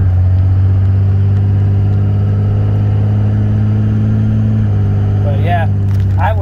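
A 2006 Dodge Ram 3500 with a 5.9L inline-six 24-valve Cummins diesel idling, a loud steady low rumble that shifts slightly in pitch, with a voice speaking briefly near the end.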